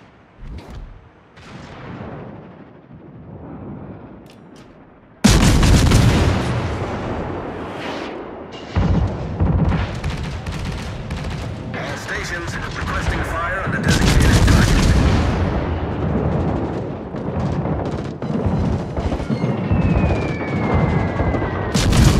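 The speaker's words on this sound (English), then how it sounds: "All stations, concentrate fire on the target." Warship guns firing salvos in the naval battle game World of Warships, heavy booming blasts that begin after a quieter stretch and continue as repeated thunderous volleys, with a voice speaking over the gunfire.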